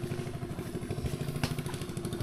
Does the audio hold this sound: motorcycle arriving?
yes